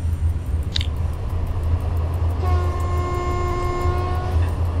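An EU07 electric locomotive hauling six wagons in the train simulator game SimRail, a steady loud low rumble of running with rhythmic clicks, a short high squeal early on, then a sustained multi-tone horn-like whine for about two seconds.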